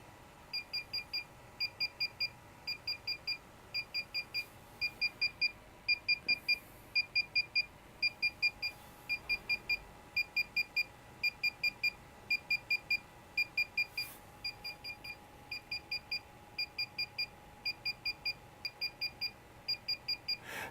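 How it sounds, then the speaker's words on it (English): A DJI Phantom 4 drone remote controller beeps during a firmware upgrade, repeating quick clusters of high, faint electronic beeps in a steady pattern over a quiet background hum. "So at the moment it's beeping at me. It's doing an upgrade."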